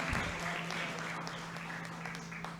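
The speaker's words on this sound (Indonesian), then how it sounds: "tepuk tangan untuk divisi TKJ" Applause for a school division at an award announcement, a fairly faint, steady patter of clapping from a group, set against a low electrical hum.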